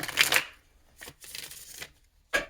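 Tarot cards are shuffled by hand in short riffling bursts, several quick crisp flurries separated by brief pauses, close and clear with no talking.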